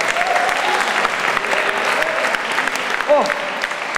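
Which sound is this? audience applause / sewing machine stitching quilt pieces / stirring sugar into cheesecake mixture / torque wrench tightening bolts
audience applause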